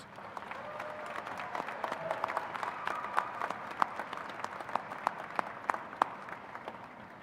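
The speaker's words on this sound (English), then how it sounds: "give a round of applause for the sacrifices and investments that those here today made in your futures" Graduates applauding at a university commencement ceremony: a large crowd claps steadily for several seconds, with sharper individual claps standing out from the dense wash.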